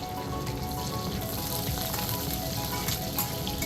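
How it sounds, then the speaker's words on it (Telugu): Mustard seeds, cumin, garlic cloves, chopped green chillies and curry leaves fry in oil for a tomato coconut kurma, giving a steady, dense crackling sizzle close up with no pauses. "తరిగి పెట్టుకున్న పచ్చిమిర్చి, కరివేపాకు కూడా వేసి ఒక 2 మినిట్స్ వేయించుకోవాలి"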